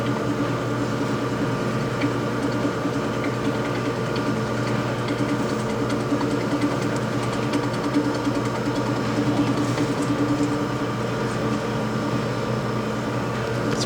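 A vacuum chamber pump degassing silicone drones continuously with a steady mechanical hum and buzz, close and unchanging, with no voices.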